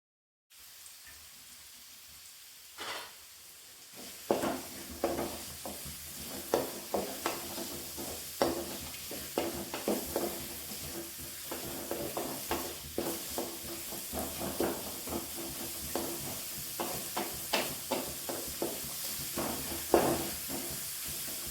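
Sliced onions, 180 grams, sautéing in a pan for a dhaba-style mutton curry, a steady crackling sizzle broken by repeated stirring scrapes at a fairly even rhythm, close and alone.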